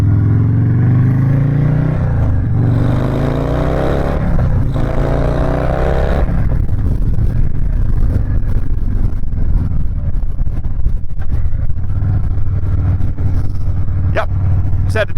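A custom Harley-Davidson Sport Glide with a Stage III engine revs up close. Loud rising and falling engine pulls give way to a rougher, breathy intake rush and a steady idle.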